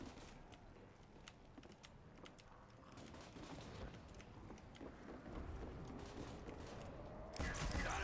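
A ray gun fires repeatedly in a Call of Duty Zombies match, with fairly faint, rapid shots in a quick series and a louder burst near the end.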